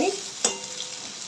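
Chopped onion and vertically sliced capsicum frying in a home pan for chilli paneer fried rice: a brief, close sizzle with one sharp stirring clink partway through, and no voices.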